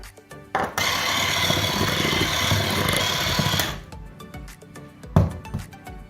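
Egg and vanilla extract batter whisked in a bowl, a loud, steady whirring burst lasting about three seconds, followed by a few clinks and knocks.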